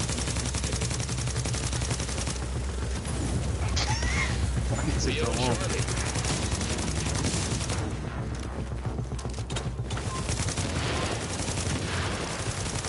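Gunfire in The Division's Last Stand mode, dense overlapping shots over a constant noisy game mix, with players talking over it.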